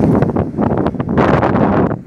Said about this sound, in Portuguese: porém muito vento